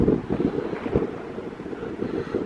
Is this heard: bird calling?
no